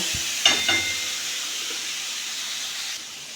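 Bata fish masala fries in a pan, giving a steady, even sizzle and hiss close up, with a couple of light utensil clinks near the start.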